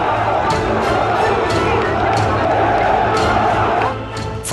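Large crowd in the courtyard of Fatih Mosque cheering and applauding, a loud continuous roar of clapping and voices that dips slightly near the end.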